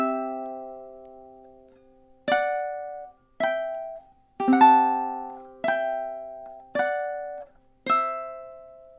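Ukulele picking measures 5 and 6 of a song: about seven bright plucked notes and chords in a steady, unhurried rhythm, each decaying quickly, close up with nothing else heard.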